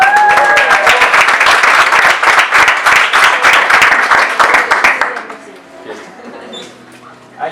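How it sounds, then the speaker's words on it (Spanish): An audience at a class applauds in a dense burst of clapping that carries loudly for about five seconds and then stops abruptly, leaving near silence with a few faint trailing sounds. "Un aplauso para ella."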